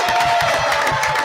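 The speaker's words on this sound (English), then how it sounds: "let's give a round of applause to our two Ring of Honor inductees on stage here." A crowd at a Ring of Honor induction ceremony cheers and whoops loudly and continuously for two inductees on stage, a dense wash of voices with a steady tone running through it.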